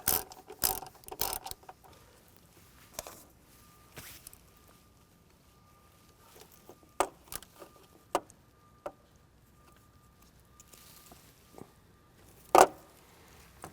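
A hand ratchet tightens a fitting on a snow plow light harness, giving scattered short clicks and a few sharper snaps against a quiet background, with a faint steady tone in places.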